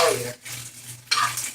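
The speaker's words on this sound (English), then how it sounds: "you want to fry it up until you get a nice crispy color" Beef frying in a hot skillet over a little above medium heat for beef and broccoli, a steady broadband sizzle that dips briefly in the middle then returns loud and close, with no talking.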